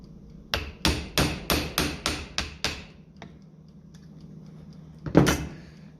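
An impact wrench hammers in a rapid run of about nine sharp rattling bursts on a stuck carburettor fastener of a 1955 Ferguson TED 20 tractor with a TVO engine, followed by a pause and one more short burst.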